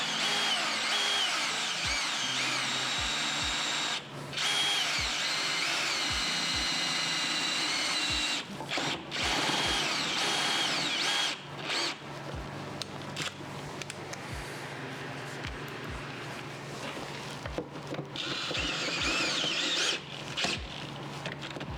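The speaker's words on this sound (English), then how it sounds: "I need to make sure I'm not drilling through some electronic or anything" A power drill whirs in long steady bursts during fuel line work on a car, stopping and restarting several times with brief pauses between runs, loud and close.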